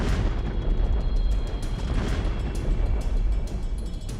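Deep, continuous rumbling roar from the 2020 Beirut port explosion in Lebanon, heavy low-end blast noise sustained throughout with scattered sharp crackles, loud and with no voices.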